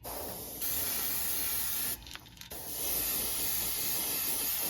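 A Neo Echo airbrush lays a base coat of paint on a fishing lure, giving off a steady close hiss of spray that breaks off briefly midway and then resumes.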